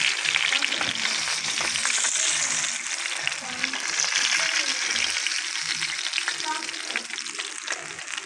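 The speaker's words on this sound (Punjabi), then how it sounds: "ਚਾਰ ਪਕੌੜੇ ਪਾ ਕੇ ਤੇ ਫਰਾਈ ਕਰਦਾ ਪਿਆ," Small fish pakoras crackle and sizzle in hot oil in a village kitchen, a steady bright frying hiss with popping bubbles that continues throughout, close and fairly loud, with a voice speaking now and then underneath.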